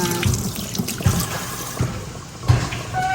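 Water runs from a newly installed faucet in a new kitchen, a close splashing flow with irregular low thumps and drips throughout.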